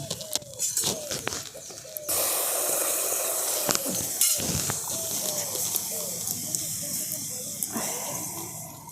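Carrot paste dropped into hot ghee in a pan sets off a loud, sustained sizzle and hiss after a few clinks of the utensil; someone talks over the frying.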